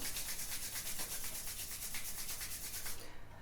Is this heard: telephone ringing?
no